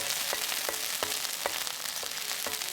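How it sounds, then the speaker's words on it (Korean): Cheongyang chili peppers stir-fry in hot oil in a preheated pan over high heat, giving a steady close sizzle with soft periodic stirring scrapes roughly every half second. "예열팬에 기름을 둘러준 뒤 청양고추 모두 넣어 센 불에서 살짝 볶아요."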